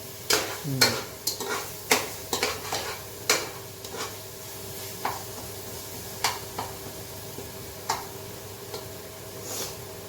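Kerala-style chicken curry masala frying in oil in a large pot while being stirred continuously, a low sizzle under repeated sharp clacks and scrapes of the spoon against the vessel.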